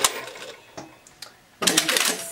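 A sewing machine stitches down the layers of a jacket welt pocket with a flap, with a few short mechanical bursts followed by a louder, steady run of stitching near the end.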